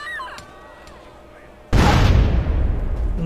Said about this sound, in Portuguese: Vamos testar aqui a granada,